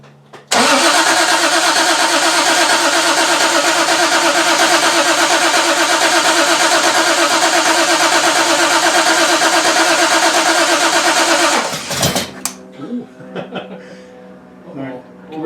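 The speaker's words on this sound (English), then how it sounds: "Okay, try it again. Crank it again." A 1968 Triumph TR250 engine cranks over on the starter in one long, loud, rhythmic churn of about eleven seconds, then stops abruptly and is followed by faint clicks and shuffling.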